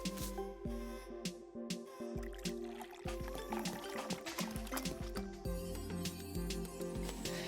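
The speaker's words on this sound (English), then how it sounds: "pour oil into a small bowl" Oil poured into a small bowl for a kids' science demonstration, a close, steady trickle with small clinks and knocks.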